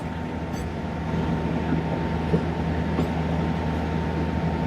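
The Sialkot Express passenger train rolls steadily along the line through countryside at dawn, a loud continuous rumble with a humming drone and faint rhythmic wheel clatter, with no voices.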